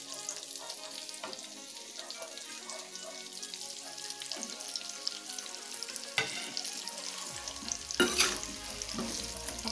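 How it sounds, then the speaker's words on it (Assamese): Amla pickle sizzles and fries steadily in a pan while jaggery is added and stirred in, with scraping stirs and a few louder clatters near the end. "এতিয়া আমি ইয়াত গুৰখিনি দি দিম"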